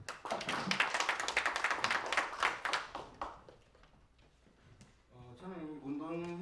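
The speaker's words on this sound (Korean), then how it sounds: "박수 한번." Applause from an audience at a Korean political party event, a brisk burst of clapping for about three seconds that fades before a voice speaks.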